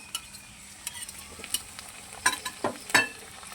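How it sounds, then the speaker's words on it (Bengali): Garlic and ginger paste is stirred into fried onions in a pan, a quiet sizzle under scattered scraping strokes of a spoon that grow more frequent toward the end. "পেঁয়াজের সঙ্গে একটু নাড়াচাড়া করে নেব।"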